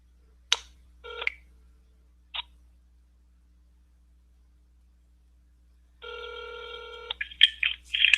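Touch-tone telephone buttons dialed to return a call to an office, a few isolated key tones early, then a sustained tone and a quick run of dialing beeps near the end, close and without speech.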